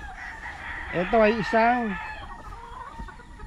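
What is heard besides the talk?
stag roosters crowing and clucking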